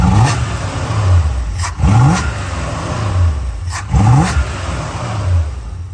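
A 1972 Chevy C20 pickup's engine revs up in repeated bursts, each throttle blip rising then falling back to a low rumbling idle, loud and close with no talking.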